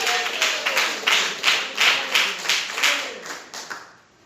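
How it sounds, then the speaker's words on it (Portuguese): A church congregation claps for Jesus during a service, a group of hands beating out a steady rhythmic pattern of roughly regular bursts, loud and close, trailing off at the end. "A igreja pode bater as palmas para Jesus."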